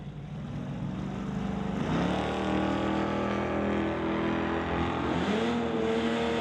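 Drag race cars, including a blue Mustang, launch from a handicap start at a Summit ET bracket race, engines roaring loud and close with a sustained revving drone that climbs in pitch as they pull away.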